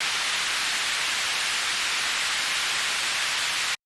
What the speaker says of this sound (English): I designed a white noise sweep in 3x OSC that is sidechained with a kick